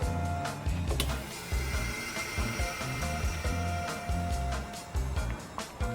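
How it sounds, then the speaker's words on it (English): A vacuum sealer running on its highest setting draws air out of a bag holding a cured lamb neck fillet in a home kitchen, making a loud mechanical whir with repeated pulsing thumps and a rising motor tone. "I want to set it on the highest setting for vacuum, so extracting as much air out of this."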